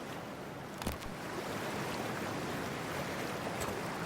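Splashing and rushing water as a character wades into freezing water in the video game Cyberpunk 2077, a dense continuous wash with a brief splash near the start.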